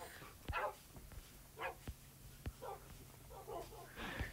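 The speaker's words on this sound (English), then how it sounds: "Look how many dogs I have." Several tamed dogs in the video game Minecraft barking in short separate bursts, around eight barks spread irregularly over a few seconds, fairly faint and quiet overall, with no voices.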